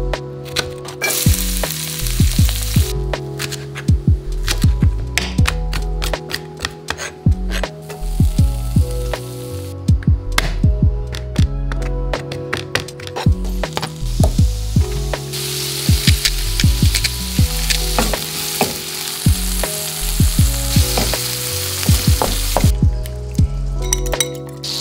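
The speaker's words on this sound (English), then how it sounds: "so we have some steak fried" Steak fries in a pan with a loud, continuous sizzle and spatter, broken by frequent clinks and scrapes of utensils stirring and turning the meat.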